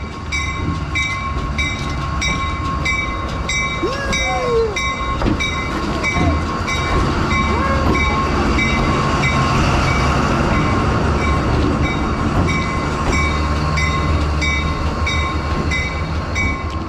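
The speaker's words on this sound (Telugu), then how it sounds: "చూడండి ట్రైన్ నా వెనకాతలు వస్తుంది, చూసారా? ట్రైన్ నా వెనకాతలు వస్తుంది." A train on the Machu Picchu to Cusco line passes close by, its loud continuous rumble and clatter of rolling wagons filling the whole stretch, with steady tonal whines above.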